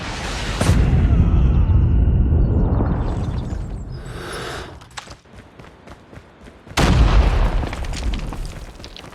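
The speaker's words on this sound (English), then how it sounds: "Hostile predator missile inbound." Predator missile strikes in Call of Duty Mobile team deathmatch: two heavy, booming blasts, each followed by a long rumbling decay, separated by a quieter stretch of crackling debris and gunfire.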